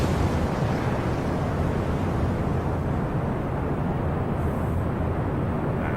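A rocket engine ignites in a space program game with a sustained, loud, broadband roar that holds steady and dense throughout, with no talk over it.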